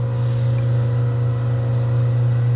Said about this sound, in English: that bandsaw blade's still spinning